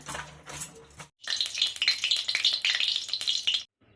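Stirring and frying in a hot kadai with oil and turmeric while cooking rohu fish: a brief clatter, then a steady, close sizzle with scraping stirs for about two and a half seconds before cutting off.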